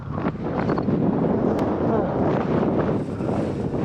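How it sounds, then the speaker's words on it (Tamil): Strong gusting wind buffets the microphone on a mountain peak viewpoint in Chikmagalur, a steady loud roar filling the whole clip with no clear voice over it. "எப்படி தள்ளுது காற்று."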